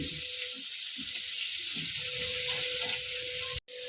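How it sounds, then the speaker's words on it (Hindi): Chopped onions frying in a pan over medium heat for Afghani egg curry give a steady, close crackling sizzle with faint stirring, cut off by a brief dropout near the end. "प्याज पारदर्शी भऽ जाए ओतबे तक एकरा भुजबाक छै, भूरा नहीं करबाक छै"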